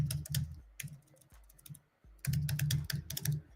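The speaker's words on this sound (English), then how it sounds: "if you type in Valentine" Keys tapping on a computer keyboard as a search word is typed, quick bursts of clicks with short pauses between them, close and clear with no talking.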